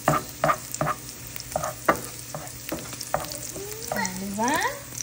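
Bacon frying in a pan with a steady sizzle, joined by scraping stir strokes and clanks of a utensil, close up with no talk.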